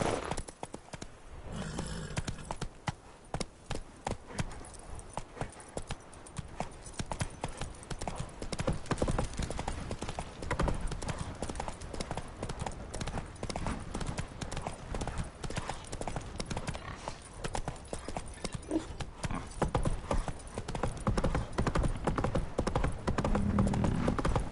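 Roach the horse galloping in The Witcher 3, hooves clip-clopping in a fast, steady rhythm close up for the whole stretch, with a brief snort or whinny near the end.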